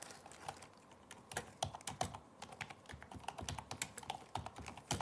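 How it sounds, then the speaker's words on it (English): Rapid typing on a computer keyboard, a dense irregular run of close, crisp key taps with brief pauses, heard alone without talk. "Typing, typing, typing."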